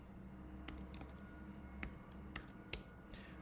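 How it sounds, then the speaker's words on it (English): Quiet keyboard typing at a computer: sparse, irregular clicks of single keystrokes over a faint steady background hum. "I'm going to type this in"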